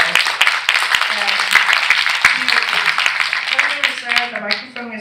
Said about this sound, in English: Could everybody of you give him a big round of applause?